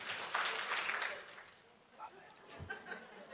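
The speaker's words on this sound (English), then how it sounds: "Everyone, 2 claps for all that shared." A workplace group gives claps for those who shared, a short burst of applause at the start that dies away, followed by soft chatter and a light chuckle.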